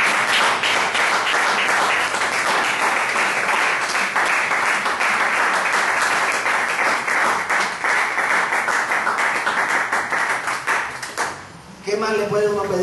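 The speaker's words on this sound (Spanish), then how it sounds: "Fuerte el aplauso a nuestro Señor." A church congregation applauding in worship, dense sustained clapping filling the room for most of the clip before fading out, with a voice starting up at the very end.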